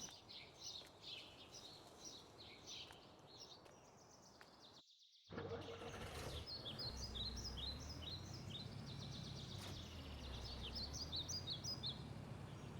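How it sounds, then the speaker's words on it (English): Ambient bird calls in a farming video game map, repeated short chirps and tweets in bursts over a low background hum, fairly faint and distant. "Nice ambient bird noises here."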